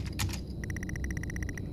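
Car key sliding into an ignition in the game Stories Untold: a brief metallic jingle of keys, then a run of quick, evenly spaced small clicks, alone over low ambient hum.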